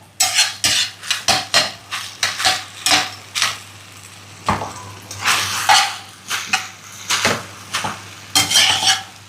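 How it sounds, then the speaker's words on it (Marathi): Hakka noodles and vegetables tossed in a pan, with repeated sharp scrapes and clinks of a spatula against the metal over a light sizzle, all close up in an uneven rhythm. "आणि यामध्ये आता आपण लगेच आपले हे जे नूडल्स आहेत ते टाकून घेतोय"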